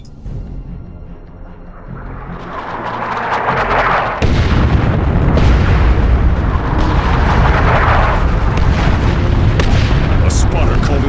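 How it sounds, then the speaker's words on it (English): Artillery barrage explosions in Warhammer 40,000 Dawn of War II build from a swelling rumble into a sudden heavy blast, followed by sustained loud, dense booming and crackling impacts that roar close up without pause. "Launch barrage! Artillery!"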